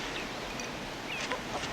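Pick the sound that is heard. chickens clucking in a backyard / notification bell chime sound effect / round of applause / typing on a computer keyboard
chickens clucking in a backyard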